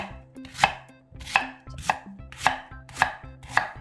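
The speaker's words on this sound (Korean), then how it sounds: "믹서기가 한꺼번에 안 들어갈 것 같아서 이렇게 반으로 나눴어요" A knife chops firmly through a radish onto a cutting board, six sharp thuds in an even rhythm, close and clear.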